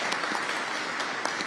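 Faint, distant audience applause for District Attorney Mary Pat Donnelly at a New York governor's press event; a thin, even patter of clapping with a few sharper claps standing out.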